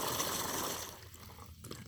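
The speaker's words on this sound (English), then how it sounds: "gives a little more of a stream of water" A raft bilge pump pushes a steady gushing stream of water out through a small attached nozzle, loud and continuous at first and then fading and trailing off into quieter splashes, with no talking.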